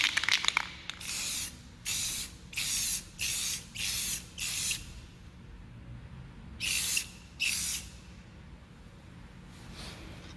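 A spray paint can sprays paint onto an old Schwinn bike over a cardboard box, eight short hissing bursts that are fairly quiet and close, spaced with brief pauses in a steady rhythm.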